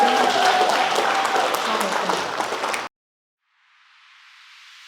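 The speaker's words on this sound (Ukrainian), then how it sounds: "оплески пану Юрію, оплески вам" Audience applause at a stand-up comedy improvisation show, a loud steady wash of clapping that cuts off abruptly partway through, followed by faint hiss.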